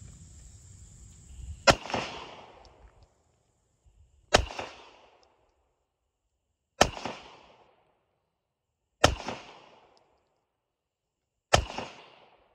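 A Glock 17 pistol with a 4.49-inch barrel fires 147-grain 9mm Federal HST rounds outdoors. Five sharp, loud, separate shots come at roughly two-second intervals, each followed by a short echoing tail.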